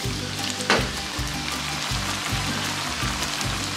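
Sauce ingredients fry and brown in a pan with a steady, close crackling sizzle, a constant spitting hiss carrying on throughout with one brief sharper pop near the start.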